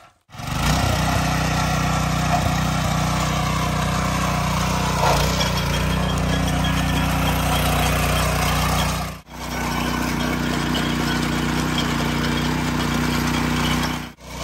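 A new power tiller's engine runs steadily and loud, a continuous mechanical drone lasting the whole stretch with only a brief dip partway through, no talking over it.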